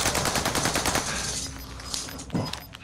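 Rapid automatic gunfire from a battle royale video game, loud bursts of quick-fire shots that thin out into scattered single cracks and a heavier blast near the end.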